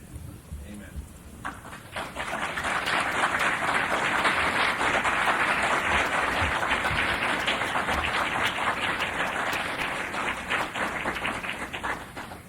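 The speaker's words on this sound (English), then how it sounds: "Thank you for having applauded St." Sustained audience applause after a talk on Saint Pius X and Modernism, a dense crowd of clapping building over the first few seconds and holding steady throughout, with faint voices underneath.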